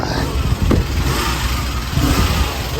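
A running 3.6 engine in a used car idles roughly nearby with a steady rumble and faint irregular ticking from worn rocker components, loud and continuous with no talk.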